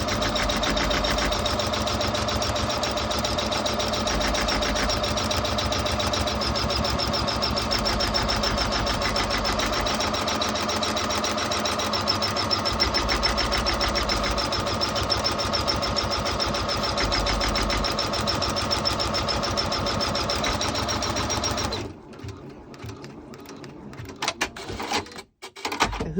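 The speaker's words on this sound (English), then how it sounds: "We're going to start the machine now to start making the card holder." An embroidery machine stitches the outline of a vinyl card holder on a stitch mat, a steady fast mechanical whirring and needle rattle that runs unbroken for about twenty seconds, then stops, leaving scattered handling clicks.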